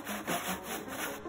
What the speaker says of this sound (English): saw from the corner about a quarter to halfway through